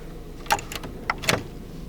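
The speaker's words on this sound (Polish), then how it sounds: "Również słychać dźwięk silniczka i parking brake off." A Renault Laguna II electric parking brake motor whirs briefly while releasing, in a few short mechanical bursts with clicks, close and moderately quiet, over a low steady hum with no talking.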